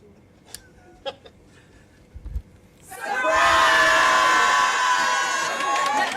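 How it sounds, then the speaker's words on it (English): A crowd at a retirement celebration suddenly erupts in loud yelling and cheering after a few seconds of quiet with scattered small noises, and the shouting stays sustained to the end. "we just need to yell surprise as soon as he hits this door"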